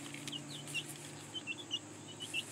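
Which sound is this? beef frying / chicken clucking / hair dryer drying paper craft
chicken clucking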